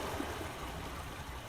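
Water flows steadily in the Myst video game, a soft, continuous trickling and gurgling stream that stays faint and even from start to finish with no voices.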